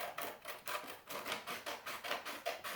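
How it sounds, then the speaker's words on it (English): Scissors snip through paper, cutting out the two halves of a printed paper ruler, in a steady series of about ten crisp, close, evenly spaced cuts with no voices. "So I'm going to take my scissors and I'm going to cut out the 2 parts"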